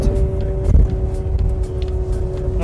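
Inside a Shineray X30L EV electric car on the move, a steady low road hum and rumble continues with a faint tonal whine, plus a brief thump partway through; no voices.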